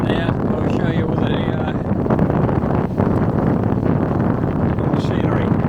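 Gusty wind blasting across a bare fell summit in the Newton Fell and Hampsfell area, heavy continuous rumble and buffeting on the microphone with brief dips and surges, a voice faintly present beneath it.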